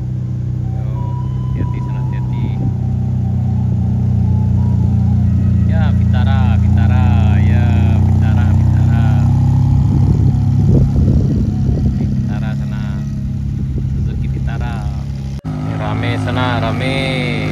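A four-wheeled vehicle rumbles loudly up a steep wooden ramp road at Muaro Aie, its engine low and heavy, with a crowd talking and shouting over it throughout.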